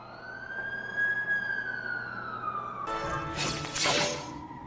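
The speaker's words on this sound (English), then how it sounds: "That's the ambulance I called." An ambulance siren wails in The Amazing Spider-Man 2 video game as a long rising and falling tone, then cuts into a harsh, rapid yelp with a burst of traffic noise.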